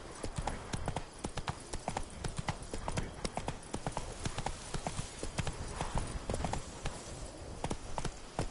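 Horse hooves clip-clop in a steady walking rhythm in The Witcher 3 video game, crisp repeated hoofbeats heard close and clear over a faint background.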